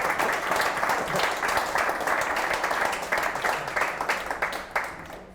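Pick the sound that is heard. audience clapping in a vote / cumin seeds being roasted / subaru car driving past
audience clapping in a vote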